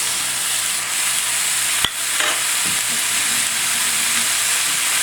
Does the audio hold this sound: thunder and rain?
no